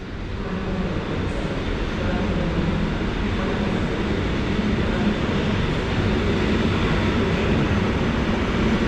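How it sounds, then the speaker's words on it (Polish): Miechowita passenger train at Kraków Główny station, a steady broadband rumble of rolling stock that runs loud and unbroken from start to finish with no distinct peaks. "I tu potwierdzenie to jest pociąg Miechowita."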